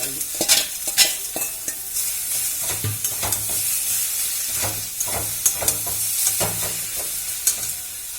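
Potatoes tossed into a hot pan and stirred, loud frying sizzle mixed with repeated scraping and clattering of a spatula against the pan, close and busy with no speech.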